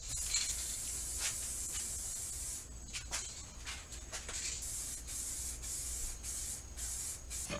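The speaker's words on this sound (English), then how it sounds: "make sure that you're spraying horizontally at all times" Spray can laying base coat onto a car fender, a steady close hiss with brief pauses and restarts as the nozzle is released and pressed again, with no talking.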